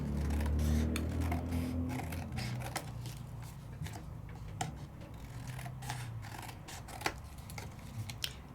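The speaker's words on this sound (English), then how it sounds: "Snip it on down." Scissors snipping freehand through cardstock while cutting out a layered card, a run of close, faint crisp cuts with small clicks spread over several seconds and no talking.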